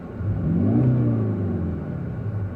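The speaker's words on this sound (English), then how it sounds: "I can hear a hell of a lot more vroom." A Kia Optima GT 2.0 T-GDI engine revs up and settles back, a low, muffled rumble heard from inside the cabin.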